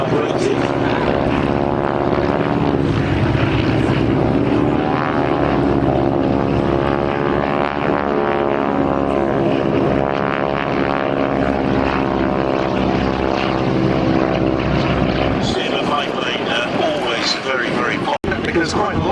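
A vintage Avro Tutor propeller biplane flying at the Shuttleworth Fly Navy airshow at Old Warden, its engine droning steadily and loud throughout, fading toward the end, with commentary over a loudspeaker underneath.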